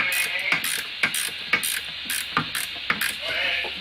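A ratchet tightens the master cylinder bolts on a Saturn SC2, giving a run of close, clicking strokes in quick bursts with brief pauses between them.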